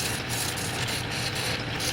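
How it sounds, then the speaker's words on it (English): A woodturning gouge scrapes a spinning wooden chess king on a lathe, making fine shearing cuts: a continuous, close, raspy scraping hiss with faint rhythmic rubbing and no pauses. "I find using the gouge as a scraper gives me these fine little shearing cuts"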